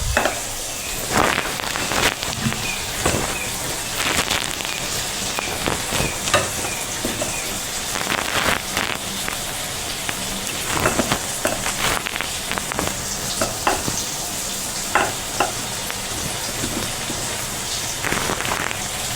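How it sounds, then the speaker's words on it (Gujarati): Tomatoes sizzling and frying in a pan while potatoes are mashed for pakoda, a steady crackling hiss punctuated by occasional scraping stirs, with no talking. "આપણે ટમેટા સળતા હોય ત્યારે આ રીતે વચ્ચે વચ્ચે હલાવતા રહીશું"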